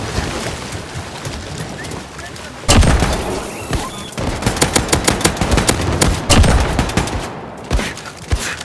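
Loud gunfire in the VR mod of Wolfenstein II: The New Colossus as the player shoots at walls, coming as rapid, sharp bursts that build into dense volleys over a constant rumbling background.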